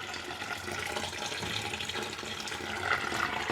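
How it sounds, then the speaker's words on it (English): Hot water running from a tap into a kitchen sink for dishwashing, a steady broadband rush that continues loud and unbroken from start to finish. "fill the sink with hot water and to put some dishwashing detergent in, get nice and soapy"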